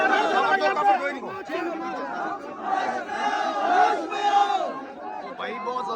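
A large protest crowd in Kullu, Himachal Pradesh shouts in loud, continuous waves of overlapping voices, near and dense, with chanting swelling and falling throughout.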